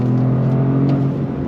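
2025 Toyota GR Corolla accelerating hard in first gear, a loud, steady engine drone with a strong low hum and rising whir, heard up close with no talking.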